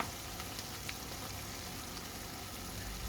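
Tomatoes frying with beef in a pan while being stirred, a faint, steady sizzle and crackle throughout with no voices.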